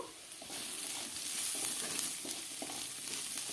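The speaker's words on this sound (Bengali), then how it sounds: "আবারও নাড়াচাড়া করে দিলাম আলু আর গাজরগুলোকে" Potatoes and carrots sizzle steadily in a frying pan for a chirer polao, with a constant hiss and occasional soft scrapes and clatters of stirring, close and even throughout.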